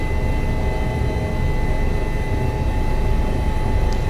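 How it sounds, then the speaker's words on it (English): An H145 helicopter in a flight simulator game, flying high in the Alps above Chamonix and the Aosta Valley, a steady loud broadband engine and rotor drone with constant whine tones and no talking. "helicopter definitely behaving strangely at altitude"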